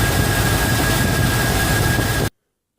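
A Chevy engine idling after running for ten minutes, with a steady, loud low drone and a constant tonal hum, close by with no talk, cutting off abruptly near the end.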